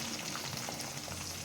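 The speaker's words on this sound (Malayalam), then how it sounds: "എണ്ണയിലേക്ക് നമ്മൾ കടുകിടാൻ പോവാണ്." Mustard seeds, green chili and curry leaves frying in hot oil, giving a steady close crackling sizzle with scattered pops throughout, no talking.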